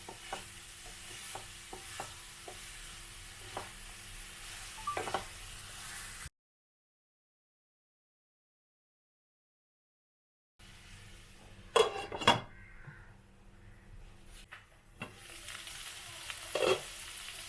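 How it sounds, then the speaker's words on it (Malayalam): Cabbage cooking in a pan with a soft, steady sizzle, broken by scattered scrapes and clinks of a spoon against the metal. The sound cuts out for a few seconds, then the stirring clatter resumes. "നന്നായിട്ടൊന്ന് ഇളക്കി യോജിപ്പിച്ചതിന് ശേഷം നമുക്കൊന്ന് അടച്ചു വെച്ച് ക്യാബേജ് ഒന്ന് വേവിച്ചെടുക്കാം."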